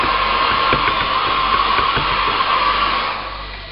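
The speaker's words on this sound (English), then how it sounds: "that's a quick blast with a hairdryer just to dry the paint off" A hair dryer drying paint on a model blows with a steady, loud whirring roar, the airflow tapering off slightly near the end, with faint clicks and handling noises.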